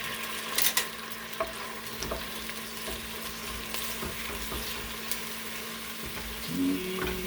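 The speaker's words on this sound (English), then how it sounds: "Throwing in some wine. And deglazing, okay." Wine hisses and sizzles as it deglazes beef stew in a cast iron Dutch oven, with steady frying and stirring scrapes, a few clinks of utensils against the pot, close and moderately loud.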